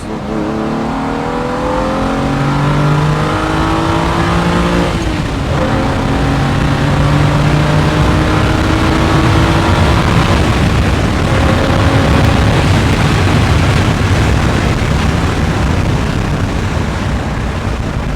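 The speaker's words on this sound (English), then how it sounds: "we're gonna drop it down to third gear, dump it in second, and show you how it goes" A 1970 Ferrari 365 GTB4 Daytona coupe, heard from the passenger seat, drops down through the gears and accelerates hard, its loud engine note climbing in pitch through rising revs across the run.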